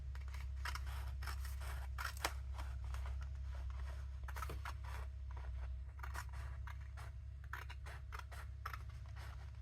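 Scissors trimming the edge of a paper art-journal page, making a series of close, crisp snips and scrapes in irregular bursts over a low steady room hum.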